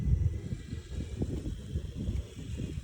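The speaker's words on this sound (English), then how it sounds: "the snowstorm in Ohio right now" Gusty wind from a night blizzard in Ohio buffets the microphone in low, rough surges that rise and fall for about three seconds, with no voices.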